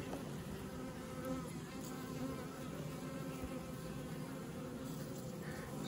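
A steady, dense buzzing of many honeybees close by at an open hive during swarm season, continuous and unbroken throughout with no voices.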